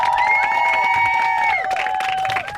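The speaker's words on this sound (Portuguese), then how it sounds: "Recebam com aplausos a vida do Shumaro." Audience applauding and cheering to welcome someone's life story in a church gathering, a dense, steady wash of clapping with raised voices and tonal shouts layered throughout, fading slightly near the end.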